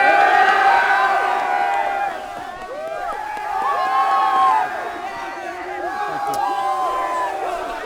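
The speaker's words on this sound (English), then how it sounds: "Now cheer." After a 2011 high school football win, Catholic Memorial players raise a loud, close crowd cheer of many overlapping shouting voices, surging in waves with a brief dip partway through.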